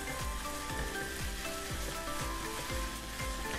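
Crispy fluffy catfish stir-fried with chili-ginger paste sizzles steadily in a hot pan as fish sauce is added, a loud continuous frying hiss with repeated scraping stir strokes, no voices.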